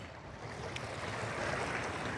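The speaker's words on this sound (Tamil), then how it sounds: "இங்கே அலை ஓடுது பாருங்கோ." Floodwater rushing near the Vattuvakal bridge in Mullaitivu, a steady broadband wash of moving water with wind-like roar, constant and fairly loud throughout without any talk.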